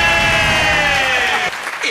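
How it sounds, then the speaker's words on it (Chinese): Audience at a magic show clapping warmly to welcome a magician on stage, a dense continuous patter that dips briefly near the end over a sustained musical tone. "来，掌声欢迎。"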